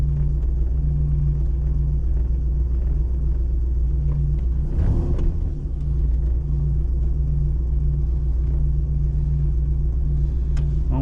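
A Pontiac Grand Prix drives with a steady low engine rumble, and a brief change in tone in the middle suggests the transmission shifting gears.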